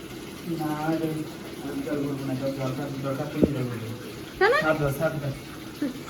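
Tap water running and filling a container at home, a steady splashing flow heard under ongoing conversation between people.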